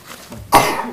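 A single sharp, close sneeze bursts out during a city council meeting in Crest Hill, Illinois, after a quiet room tone.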